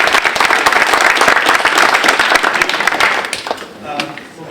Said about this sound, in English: So, give a round of applause to Mr. Campbell.